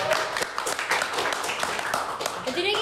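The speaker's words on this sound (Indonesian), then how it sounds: "Nah, tepuk tangan sih." Hands clapping in a classroom, a dense burst of many claps from a group of students, steady and fairly loud throughout.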